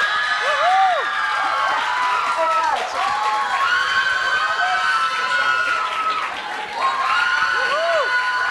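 A graduation ceremony crowd cheers and applauds loudly and continuously, with rising whoops and shouted calls layered over dense clapping throughout.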